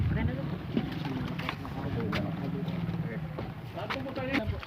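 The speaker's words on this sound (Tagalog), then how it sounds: "Sasakay na po kami ng bangka." A boat ride across the sea to another island gives a steady low rumble of engine and water with wind buffeting the microphone, while people talk over it throughout.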